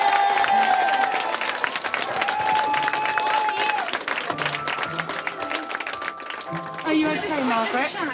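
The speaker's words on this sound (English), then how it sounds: "can you just give them all the biggest clap you've ever given anyone" An audience breaks into loud, sustained applause and cheering, a dense crackle of many hands over music, with voices mixed in throughout.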